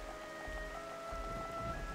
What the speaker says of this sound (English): Oh, this game loves rain.